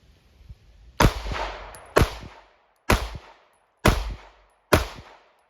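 Five sharp gunshots ring out about a second apart while the shooter moves, each a loud, close crack followed by a short decaying echo.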